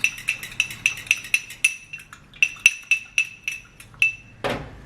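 A spoon stirs salt into freshly squeezed lemon juice, striking the bowl in a quick series of bright, ringing clinks, close and clear, that pause briefly and then resume.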